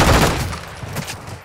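Rapid gunfire in Modern Warfare 2, a dense burst of shots loudest at the start and trailing into scattered cracks, close and sharp.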